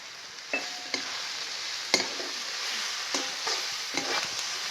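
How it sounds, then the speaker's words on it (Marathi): Asafoetida and turmeric frying in oil, a soft steady sizzle with a few distinct spoon clanks and scrapes against the pan, fairly quiet. "आता सगळं मस्त तळून घेतलं"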